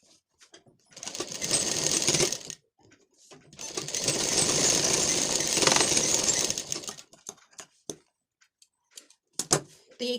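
An electric sewing machine stitching a lined blouse runs in two rapid whirring bursts, the second longer, separated by pauses, followed by a few soft clicks and handling noises.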